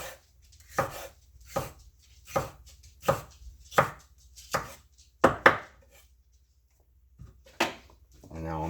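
A knife chopping ingredients for campfire burgers on a board, about eight sharp, evenly spaced cuts, then a pause and one more chop.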